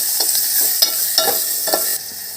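Green chillies fry in a pan with turmeric under a loud, steady sizzle, while a spoon stirs them with a few soft scrapes. No voices are heard.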